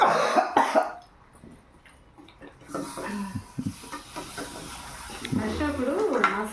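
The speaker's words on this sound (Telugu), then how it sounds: "అందులో కారం ఉంటుంది కదా అవి అది దగ్గుతున్నాడు అనమాట" Coughing from someone eating spicy roasted groundnuts, with a few close, harsh bursts that rise out of kitchen clatter and murmured talk during cooking of a Rayalaseema-style recipe.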